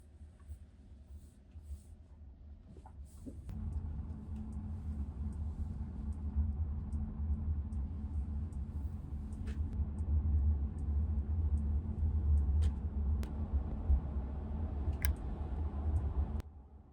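A 2025 Mercedes CLA 250+ electric car rides on 17-inch studded winter tires, a steady low road rumble inside the cabin with scattered small ticks and clicks, building after a quieter start.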